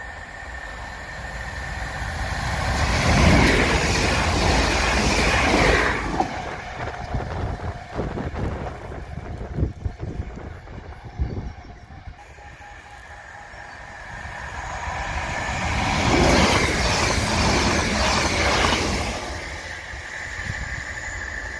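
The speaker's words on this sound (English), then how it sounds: "two trains are coming very close together" Two trains rumble past at close range near Marston Marshes, one coming from Cambridge, swelling loudly twice with rattling wheels and rushing wind, easing to a quieter rolling clatter between the passes.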